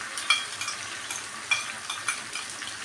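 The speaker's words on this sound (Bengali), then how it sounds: "দিয়ে এখন ভালো করে নাড়তে হবে, কারণ তলায় ধরে যাবে।" Soybean curry stirred in a pan after a ground paste of poppy seed, white sesame, melon seeds and cashew goes in, a utensil scraping with soft repeated strokes over a faint sizzle, close and moderately quiet, no talking.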